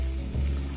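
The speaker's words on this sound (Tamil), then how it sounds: "நல்லா வதக்கிக்கணும் இது நல்லா வதங்கட்டும்" Tomato pieces and curry leaves with their stems sauté in hot oil in a pan, giving a steady close sizzle that swells slightly partway through, with no voices.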